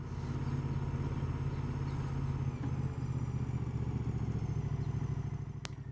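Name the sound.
Moto Guzzi motorcycle riding at slow speed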